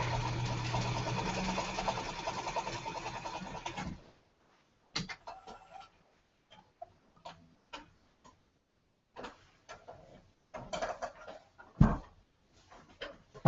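A sewing machine joining two quilt fabric pieces hums in a fast, steady run for about four seconds, then stops, leaving scattered light clicks and handling noises.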